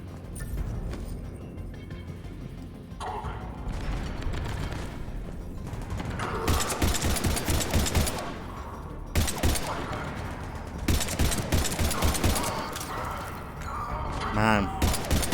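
Incendiary bullets fired in the video game Mass Effect 3 sound as dense, rapid bursts of gunfire in repeated volleys over a battle backdrop, with some voices in between.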